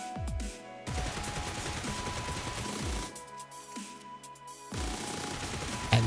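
Automatic weapon fire in PUBG during a recoil test at 30 FPS: rapid, loud bursts of rattling shots separated by brief pauses, with no voices.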